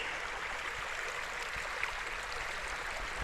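A creek flows in the woods at Whiteoak Sinks with a steady, soft broadband rush of running water, even and unbroken, heard alone at moderate distance.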